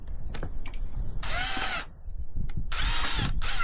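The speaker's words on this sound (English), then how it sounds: "The first one is to drill a couple of holes" Power drill boring holes in the pipe of a homemade lobster pot: two loud whining bursts of drilling, each about a second long, separated by handling clatter and knocks.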